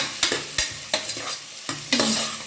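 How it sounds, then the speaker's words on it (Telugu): Three medium-size chopped onions fry in a pan with whole spices for chicken biryani while a spoon stirs them in repeated scraping strokes over a steady, close sizzle. "ఈ ఆనియన్స్ని బాగా రోస్ట్ చేసుకోవాలండి."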